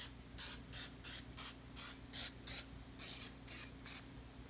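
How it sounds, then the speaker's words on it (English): Repeated short hissing bursts of aerosol cooking spray onto baking dishes, about a dozen quick sprays in a steady rhythm, close up with a faint hum beneath. "we're going to spray the dishes down for the dough to"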